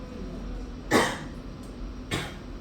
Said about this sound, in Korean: 지금 기침을 일부러 하는 거 아니죠?